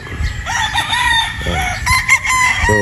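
A purebred Boston Roundhead rooster crows close by and loudly, long drawn-out calls repeating across the clip, with no talk over them.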